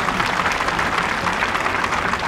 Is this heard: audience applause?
yes